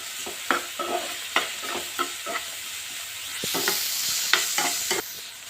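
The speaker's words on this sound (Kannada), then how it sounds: "ಕ್ಯಾಪ್ಸಿಕಮ್ಮು ಹಾಕ್ಕೊಂಡು ಇದನ್ನು ಸ್ವಲ್ಪ ಫ್ರೈ ಮಾಡ್ಕೊಳ್ಳೋಣ" Chopped green chili and capsicum fry in a pan with a steady sizzle while a spatula scrapes and clacks against the metal in repeated strokes, close and loud throughout.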